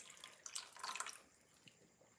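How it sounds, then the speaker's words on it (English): Water poured into a simmering pot of tadka dhal, a short burst of splashing and trickling liquid that fades quickly into a quiet bubbling background. "Now I am actually going to add a little bit of water to this."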